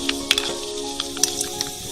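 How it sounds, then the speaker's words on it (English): Fenugreek seeds fry in hot hair oil with crisp, irregular sizzling pops and splutters over a steady low hiss, close and moderately loud, with no talking. "you can hear the sizzle and the spluttering"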